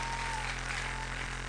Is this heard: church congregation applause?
yes